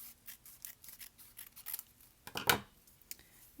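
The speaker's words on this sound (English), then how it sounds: "You can cut just a little bit of it" Scissors snip through a strip of paper for a window craft, a quick series of close, crisp cuts ending in one louder, longer slice, then a few small rustles.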